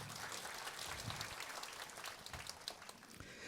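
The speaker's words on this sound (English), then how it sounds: "let's give Atomy Singapore a big round of applause" Applause from a large audience at an Atomy Singapore company presentation, a dense steady wash of clapping filling the room for a few seconds at moderate distance.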